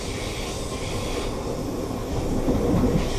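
An Amtrak passenger train riding the N&W main line between Lynchburg and Roanoke, Virginia, a loud steady rumble of wheels on rails with faint clickety-clack, swelling slightly toward the end, no talk.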